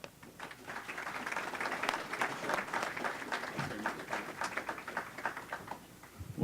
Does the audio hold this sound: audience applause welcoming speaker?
yes